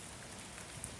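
Rain falling in Fullerton, California, a faint, even, continuous hiss of drops with no other sounds standing out.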